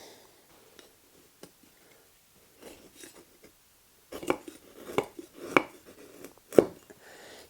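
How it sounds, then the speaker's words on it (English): A cleaver shaves and taps at a small piece of wood being whittled into a chopstick, giving sparse light clicks at first and then a cluster of sharper scraping cuts close by. "I've got this cleaver that I use to chop wood up for me wood burner, and this will do the job"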